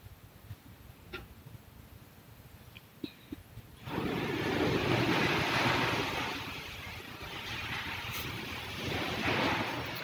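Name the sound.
sea waves seen from a train on a bridge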